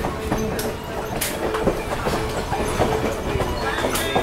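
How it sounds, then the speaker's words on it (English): Great Smoky Mountain Railroad train rolling along steadily, with continuous rumbling rail noise and rhythmic clickety-clack of wheels on track, heard close from aboard, with occasional sharper metallic accents. "There's the great steam locomotive"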